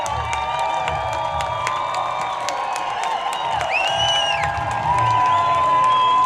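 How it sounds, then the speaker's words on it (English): Baseball fans cheering in the stands at a Rocky Mountain Vibes versus Grand Junction Rockies game, a crowd roar with whoops, whistles and clapping that swells slightly toward the end. "And a nice cheer from the fans."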